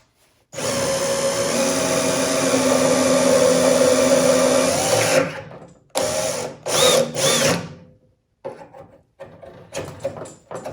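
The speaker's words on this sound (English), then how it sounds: "Let the reamer do its job." A powered reamer works a VW Bug hinge pin hole with a close, steady whirring drone lasting about five seconds, then several shorter bursts with pauses between them, with no speech.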